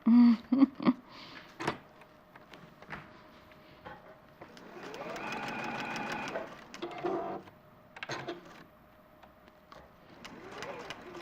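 A sewing machine stitches a rainbow heart quilt in a fast, steady run of a couple of seconds, then stops with the needle down. Scattered clicks and brief speech come before and after.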